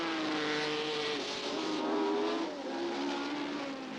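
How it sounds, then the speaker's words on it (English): Racing cars speeding around a wet track at about 125 mph, with a loud, continuous, high-revving engine roar and shifting pitch as the cars pass close by. "these cars are still touching 125 miles an hour, riding that hairline just this side of disaster"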